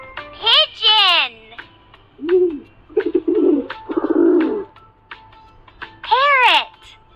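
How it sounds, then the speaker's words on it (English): A pigeon coos in a series of soft, throaty rolling calls, close and clear, broken by brief pauses with a quiet background. "Pigeon."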